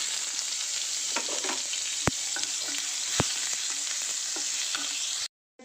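Ginger paste and broken dried red chillies sizzle in a hot pan, a steady close crackling fry with a few sharp clinks of a utensil against the pan, no talk, ending in sudden silence.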